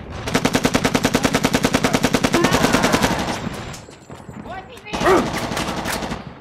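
AK rifle fire in Shellshock 2: Blood Trails, a rapid steady string of loud shots for about three seconds, then scattered clatter and another burst.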